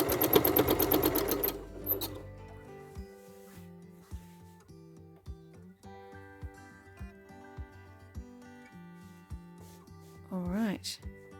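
A sewing machine stitches a quilt seam, starting with a fast whirring run and then slowing to separate single stitches in an irregular rhythm, with a brief squeaky glide near the end.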